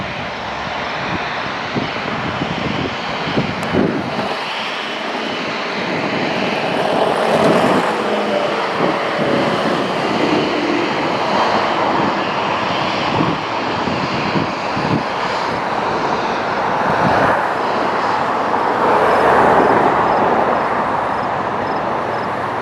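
An Air France jet taking off from runway 23 at Toronto Pearson, a loud close broadband engine roar that builds and surges as it accelerates, heard alone without talk.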